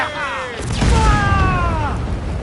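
Ship cannons fire during a naval battle in Assassin's Creed IV Black Flag: a deep booming blast rolls out loud and close, while voices call out in the background.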